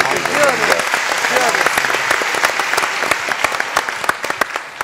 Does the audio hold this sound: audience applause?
yes